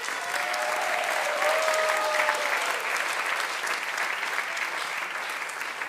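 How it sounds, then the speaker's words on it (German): A studio audience on a German Schlager TV show applauds in a dense, even roar of clapping that holds steady throughout, with a brief tonal whistle-like sound early on. "Euer Applaus noch einmal."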